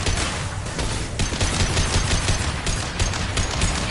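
Continuous rapid gunfire from Mass Effect 2 combat, dense overlapping automatic shots at steady high intensity throughout.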